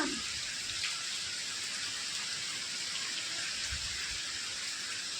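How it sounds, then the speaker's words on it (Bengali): Outdoor rain falls steadily as a soft, even hiss of drops, fairly faint and unbroken, with no voices. "এখন ধীরে ধীরে বৃষ্টিটা বাড়ছে"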